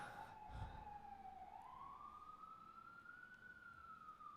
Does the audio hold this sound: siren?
yes